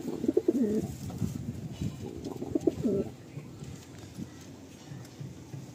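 Madrasi and Andhra pigeons coo in low throaty bursts near the microphone, two clusters in the first three seconds, then quieter loft background.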